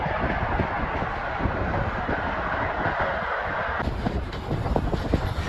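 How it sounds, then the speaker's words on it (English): A train loaded with military tanks rumbles past through mountain passes with continuous heavy rolling noise and rhythmic clacking of wheels on track, loud and close. "A train loaded with military tanks rowing fortresses snakes through mountain passes."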